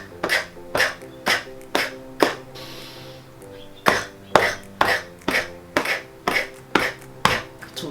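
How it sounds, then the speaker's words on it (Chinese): Someone pats their own chest while forcing out coughs, making close, sharp thumps in a steady beat, with a short pause before the rhythmic pats and cough sounds start again. "吸饱足之后边拍边发出咳的音"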